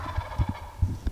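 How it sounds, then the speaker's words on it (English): A wild turkey tom gobbles in short, repeated bursts of rattling low calls, fairly close and loud with brief pauses between, while a hunter in the field listens to judge whether the bird is a jake. "I'm trying to see the bird gobbling to see if it is a Jake."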